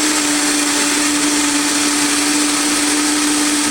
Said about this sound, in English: Blender noise.